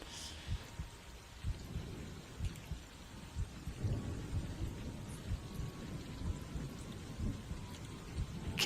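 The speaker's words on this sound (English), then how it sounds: "It begins to rain" Steady rain patters down while low, distant thunder rumbles on and off beneath it.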